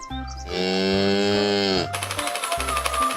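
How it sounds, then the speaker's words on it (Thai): A toy cow gives a long, loud electronic moo with a steady harmonic tone that holds for over a second, then cuts to a brighter synthetic jingle; no one talks. "cow,"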